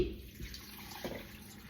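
Water pours into a slow cooker holding beef tallow, a soft steady trickle close by with a brief splash midway, no talking.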